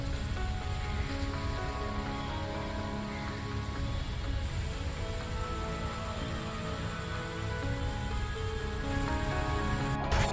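Heavy rain pours down steadily in Junagadh, Gujarat, during flooding, a dense, close, unbroken hiss of downpour with no voices.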